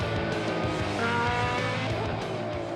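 Ferrari race cars at the Mugello circuit during a 2017 Ferrari Challenge Europe Trofeo Pirelli race produce a continuous, loud engine roar, with tire squeal and skidding mixed into the dense, unbroken racing noise.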